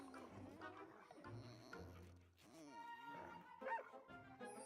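Corgi dogs in a video game giving light yips and barks at intervals, mixed with playful game sounds and a person talking over them.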